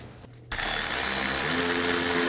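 A ratchet or power tool works loose a 10mm bolt on top of the bumper of a 2011-2027 Dodge Durango 5.7L V8. A brief quiet start gives way to a loud, steady, close mechanical whir that continues to the end, with no talking.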